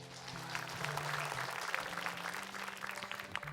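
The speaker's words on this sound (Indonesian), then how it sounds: "Tepuk tangan dulu buat semuanya." A studio audience at an Indonesian Islamic TV talk show claps in a lively burst, fairly close and full, with soft background music tones running beneath the applause.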